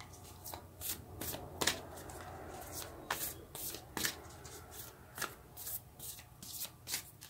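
Tarot cards are shuffled by hand in a steady run of crisp riffling bursts and soft rubbing slides, close and fairly quiet, with no talking.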